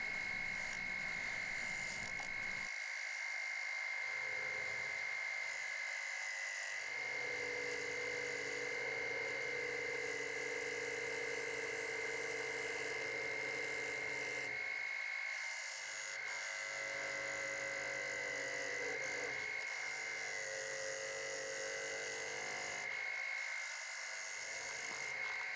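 Wood turning on a lathe while the top of spirograph teeth is flattened: a steady whining hum runs throughout at moderate level, with brief low gaps where the cutting tool lifts off the spinning wood.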